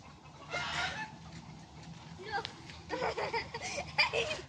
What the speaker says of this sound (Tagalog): Yan, nagtakbuhan yung mga manok.